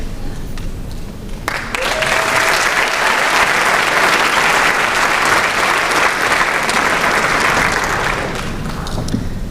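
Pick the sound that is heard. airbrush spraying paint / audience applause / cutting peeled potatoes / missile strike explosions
audience applause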